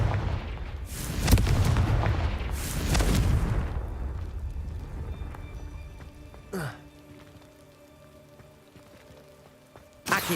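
Confringo fire spell explosions in the Hogwarts Legacy video game, two heavy booming blasts with long rumbling decays, followed by a sharper whooshing crack and a faint thump at the end.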